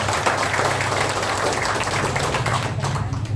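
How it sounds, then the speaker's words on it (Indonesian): A crowd claps steadily at a political volunteer rally, a dense wash of applause that fades slightly toward the end. "Tepuk tangan."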